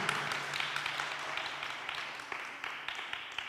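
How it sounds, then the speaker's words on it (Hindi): A congregation at an Asian fellowship Friday prayer meeting claps to welcome a family onto the stage, a faint, distant patter of many hands that carries on steadily throughout. "ज़ोरदार तालियां होनी चाहिए"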